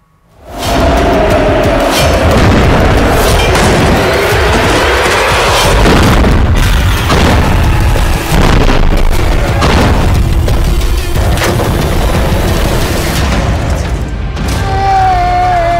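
A massive, sustained booming roar of a 2000 kg bomb explosion, loud and continuous with crashing debris and rumbling throughout.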